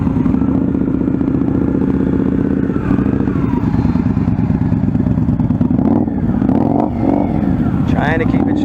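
A motorcycle engine runs steadily at low, even revs as a nervous rider eases it through slow practice maneuvers, with someone talking over the loud continuous hum and a brief rise near the end.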